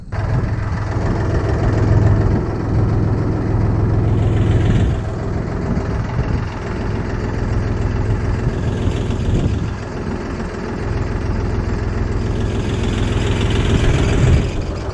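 A YTO 244 SX mini tractor runs with a homemade mini-crane on its rear hitch, the diesel engine idling in a low, steady rumble that swells and dips slightly as the crane works, loud and close with no speech.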